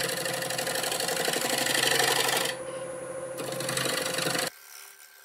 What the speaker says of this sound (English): I'll do a little shear scraping here and then we'll sand.